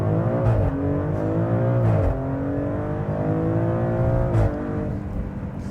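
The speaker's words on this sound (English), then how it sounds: "So those exhaust blats just make me giggle every single time." A Maserati Grecale Trofeo SUV accelerates hard, its engine note climbing through gears with sharp exhaust blats at each shift. The sound is loud, close and continuous, recorded from inside the car.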